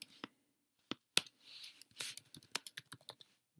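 Code is typed on a computer keyboard during a coding contest as scattered, sharp key clicks, first a few isolated taps and then a quicker run of keystrokes, close-up in a quiet room with no talking.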